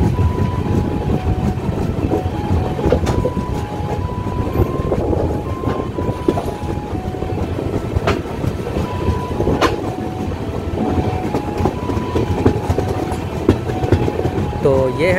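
A train rumbles and rattles into Maihar railway station on platform 1, with rhythmic clacking and a faint squeal, while voices murmur in the background.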